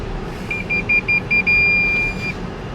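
A mobile phone inside a moving car gives a quick run of short electronic beeps, then one longer steady tone, sounding clearly over a constant low road rumble.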